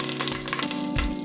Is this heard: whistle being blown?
no